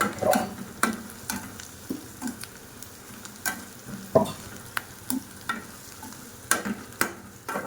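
Turmeric being stirred in a hot frying pan for tomato chutney, with repeated scraping strokes of a spoon against the pan over a soft, continuous sizzle; no voices.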